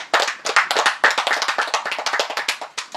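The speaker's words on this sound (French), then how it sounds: "on se doit peut-être d'applaudir le lycée bilingue de Bafoussam" Audience at an interschool final claps for the bilingual high school of Bafoussam, a short burst of brisk, close hand claps without voices, fading toward the end.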